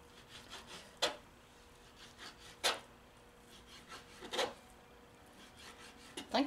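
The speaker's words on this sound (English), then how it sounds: "Just kind of cut this bacon up a little bit so it ain't in big chunks." A kitchen knife slicing bacon into small pieces on a board gives a few separate rasping strokes, spaced about a second or more apart, faint and close with no talk.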